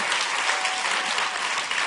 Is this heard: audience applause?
yes